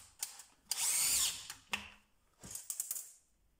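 A DeWalt DCD996 cordless drill drives 5 mm by 50 mm screws into 40 mm wood, giving close, loud bursts of whirring motor and screw bite separated by short pauses.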